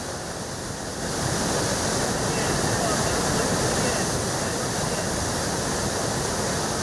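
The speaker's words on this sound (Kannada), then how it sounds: "ಡ್ಯಾಂನ 10 ಗೇಟ್ ಮೂಲಕ ಹರಿತಾ ಇದೆ ನೀರು." Water gushing through ten open gates of the KRS dam on the Cauvery river in Mandya, a loud, dense, continuous roar that swells after the first second and holds steady.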